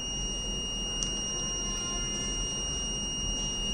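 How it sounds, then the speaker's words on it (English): A battery management system buzzer for an electric vehicle pack sounds a steady, faint high-pitched tone on an over-temperature alarm, continuous over a low background hum with no talk. "when it is crosses the 50 degree centigrade, then automatically the buzzer got switched on"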